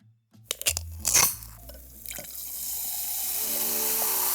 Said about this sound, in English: Take something as simple as the fizz in your soda.